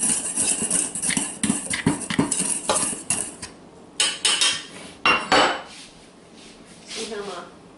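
A spoon stirring muffin batter with baking soda in a bowl, rapid clinking and scraping strokes in bursts, loud and close, with pauses and a couple of sharper knocks toward the end.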